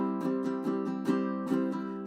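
Ukulele being strummed in a live jam of a song, a steady chordal pattern with regular downstroke accents about every quarter second, fairly quiet and alone without talking.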